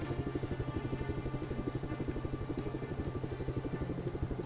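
Steady, fast rotor chop of a helicopter in the video game Just Cause 3, a continuous pulsing thrum with a low engine drone, loud and close throughout with no talking.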